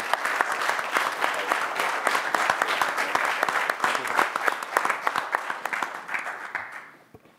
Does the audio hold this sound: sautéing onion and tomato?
no